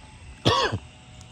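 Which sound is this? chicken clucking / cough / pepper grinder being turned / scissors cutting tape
cough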